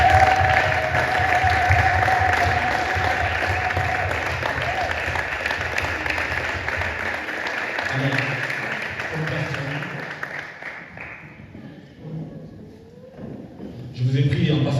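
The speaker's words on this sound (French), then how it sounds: "Est-ce qu'on peut se mettre debout, applaudir rapidement pour la parole?" A church congregation at a Sunday service applauds in a sustained, fairly loud wash of clapping that fades out after about ten seconds, with scattered voices and movement continuing as it dies away.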